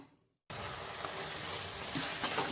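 Tomatoes cooking over medium flame in a pan for Tamil-style fish biryani give off a steady, close sizzle and bubbling that starts abruptly after a brief near-silence and continues evenly, with no talking.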